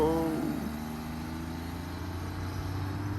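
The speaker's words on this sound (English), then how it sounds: "That engine sounds very taxed." A classic car engine idling roughly and sounding strained after a failed burnout attempt, a low steady rumble with a brief higher whine at the start, moderately loud and unaccompanied by talk.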